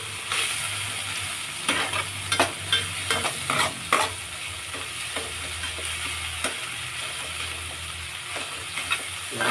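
Tomatoes sauté in a hot pan, a dense, continuous sizzle up close, broken by repeated sharp scraping strokes of a utensil as they are mashed and stirred, with no talking.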